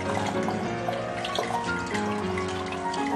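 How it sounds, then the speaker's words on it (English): A homegrown onion is washed under a running kitchen tap, the water pouring continuously and splashing close by without pause. "let's just wash it to get the earth out of it"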